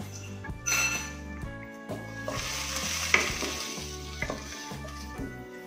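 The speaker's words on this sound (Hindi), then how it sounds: "इसी ऑयल में हम प्याज डालेंगे।" Onions drop into hot oil for a drumstick (moringa) curry and burst into a loud sizzle, joined by stirring scrapes and light clinks of a utensil against the pan, with no talking.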